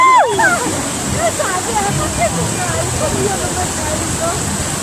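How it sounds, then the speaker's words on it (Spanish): Water splashing and churning as people bathe in a river at 5 a.m., while a lively crowd shouts and cheers over it. "Agua, agua, todos se bañan"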